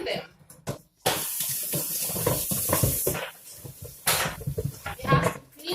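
Tap water splashes into a sink while pots are washed, in bursts that start, stop and resume, with clattering and brief voice sounds between the flows.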